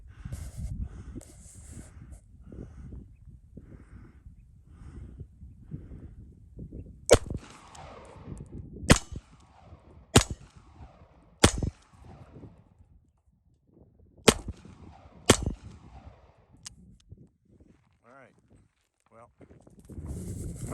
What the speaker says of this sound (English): I'm going to shoot some and I'll be right back. Okay. This is the Colt 38 Special.